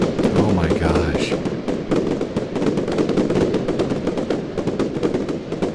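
Fireworks in the Roblox game Lumber Tycoon 2 burst in a dense, loud, continuous barrage of rapid crackling pops, with a brief tonal whistle near the start.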